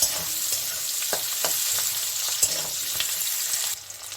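Two large onions frying in a pan for an egg and okra dish, a steady loud sizzle with a few scraping stirs, easing slightly near the end.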